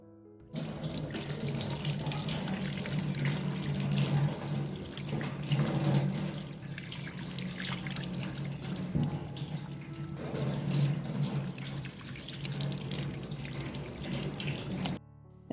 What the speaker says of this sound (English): I gave everything a good wash